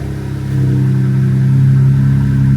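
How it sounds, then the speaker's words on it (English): A BMW M4 on its stock exhaust cold-starting: a brief lower rumble settles after half a second into a loud, steady, close engine drone with a deep, throbbing low hum and no talking. "let's see what a cold start sounds like with the stock exhaust for this M4."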